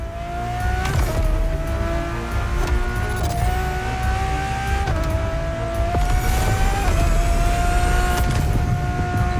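Ferrari Enzo in The Crew Motorfest racing game, engine revving hard and close with repeated upshifts, each pitch climb dropping at a gear change, tyres and passing cars under a constant roar.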